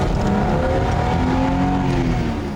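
A small older BMW engine revs hard with a rasping bark as it climbs through the rev range, loud and close, one continuous rising howl that holds for a couple of seconds.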